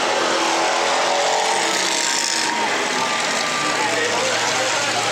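A demolition derby car with a lost transmission revs loudly and roughly, a harsh, sustained engine roar under crowd noise and commentary at an outdoor derby arena.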